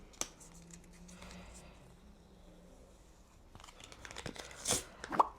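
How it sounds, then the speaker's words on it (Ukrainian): A Kinder Joy capsule wrapper gets peeled open with soft crinkles and quiet tearing, ending in two sharper rips near the close, heard up close and alone with no talk. "Тут щось треба відклеїти, відкрити, дивіться."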